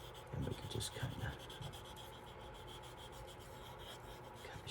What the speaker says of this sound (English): we can take our little sanding disc